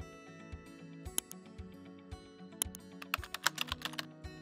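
Quiet, close computer keyboard typing as an indicator name is entered, irregular bursts of individual keystrokes with short pauses between them, no voices.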